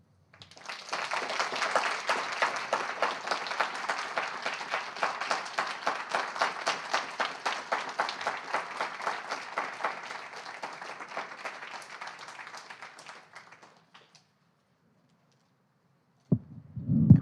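Audience applause for two poets after a reading, a long, even burst of many hands clapping that fades out around fourteen seconds, followed by silence and a brief low thump at the end.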